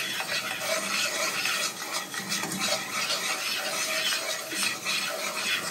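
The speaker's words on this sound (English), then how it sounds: "Just kind of stir it around a little bit." Flour and onions cook in a pan for gravy as a utensil stirs and scrapes steadily against the pan over a constant light sizzle, close and continuous, with no voices.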